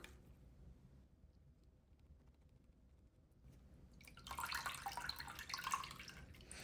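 Succulent cuttings, roots crowding their cup and badly dehydrated, dunked into water: quiet at first, then a burst of splashing, bubbling and dripping that carries on steadily to the end, close and fairly soft.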